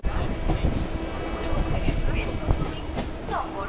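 A through train rolls past a station platform near Hind Motor on the Kolkata–Tarakeswar line, with a loud, close rumble, rhythmic wheel clatter and faint metallic squeals, while voices murmur in the background.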